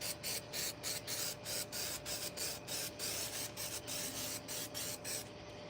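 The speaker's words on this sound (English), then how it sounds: "we sprayed the activator." Glue activator comes from a spray can in quick, rhythmic hissing bursts, close and fairly soft, with a faint steady hum underneath.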